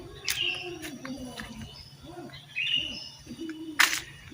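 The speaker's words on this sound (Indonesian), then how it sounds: "Suara burung" Several birds chirp and call intermittently outdoors, some bright tweets standing out, with faint voices and background noise underneath.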